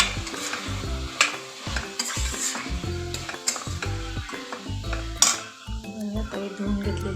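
Khandeshi khichdi masala stirred in a pan, with a spoon scraping and clinking against the metal over a faint sizzle in busy, uneven bursts, and no voices.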